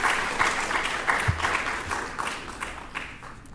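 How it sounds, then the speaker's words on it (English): An audience at a fundraising forum applauds the donors, with dense clapping that swells in bursts and gradually fades toward the end. "let's have a round of applause for you, the donors"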